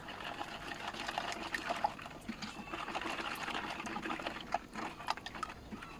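Boiled water pours in a continuous, splashy stream into a bowl for mango jelly, a steady gurgling trickle heard close up without talking.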